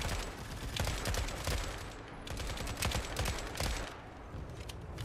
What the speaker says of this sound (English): I forgot this is not silenced. This is a Pupasha. This is not a silenced SMG.